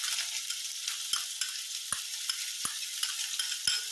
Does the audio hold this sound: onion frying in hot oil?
yes